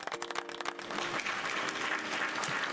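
A crowd bursts into dense applause, many hands clapping steadily and close, with a faint tonal hum at the start that fades under the sustained ovation.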